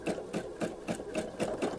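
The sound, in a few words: sewing machine doing free motion quilting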